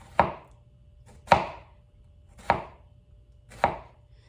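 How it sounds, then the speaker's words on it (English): A knife cutting through an onion on a cutting board for fajitas: four sharp, evenly spaced chops about a second apart, each with a crisp thud, close and clear with no talking. "you're going to cut them at varying angles as you come around the circumference of the onion here"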